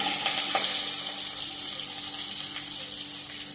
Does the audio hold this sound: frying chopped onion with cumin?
yes